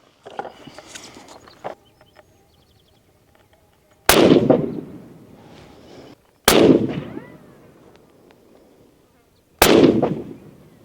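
Three loud rifle shots from a cheap budget rifle at a range, each a sharp close crack with a trailing echo, spaced a few seconds apart after some quieter handling noises.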